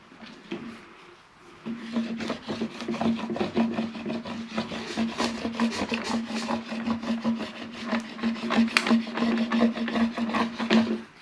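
A squeegee rubs firmly down a sheet of smart vinyl for a Cricut Joy, making close, continuous rhythmic scraping strokes with no voices.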